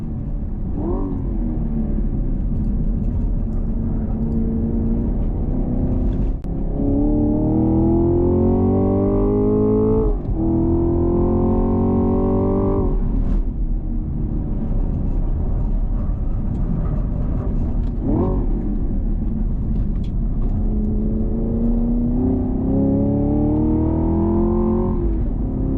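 A 2023 Nissan Z accelerates hard on a drive, its engine rising in pitch through several gears with brief dips at each shift, loud and close over steady road rumble.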